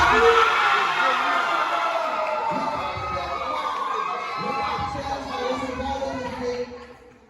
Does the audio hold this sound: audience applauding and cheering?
yes